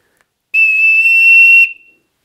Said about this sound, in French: le fait d'utiliser un sifflet ainsi